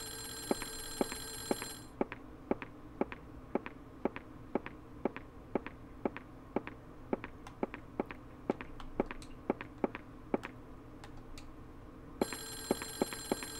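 An old-style telephone bell rings in repeated short, regular trills in the horror video game Clock Tower, fairly faint and alone over a quiet background, with an electronic tone at the start and end.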